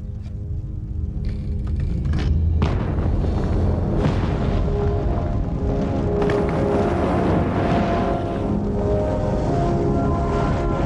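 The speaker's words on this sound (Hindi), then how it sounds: "कुएं में धमाका।" Oil well explosion, a deep boom that swells into a sustained roar of rumbling blast noise, loud and continuous throughout with no speech.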